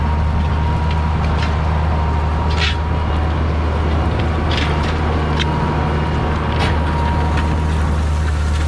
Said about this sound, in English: I got the tractor and the disc greased and ready to go. So we're gonna start working the ground here.